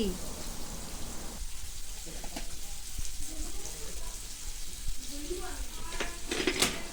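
Ghee sizzling in a hot wok while rice is being prepared for a festive meal, with a steady crackling hiss and a few clinks from stirring.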